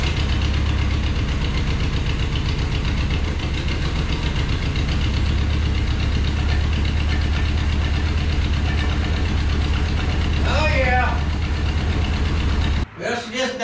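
A 1977 Datsun 710 engine pulled from a salvage yard, already running and idling with a deep, steady rumble and slight knock throughout, and a short voice-like burst near the end before the sound cuts off abruptly.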